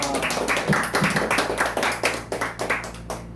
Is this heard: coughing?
no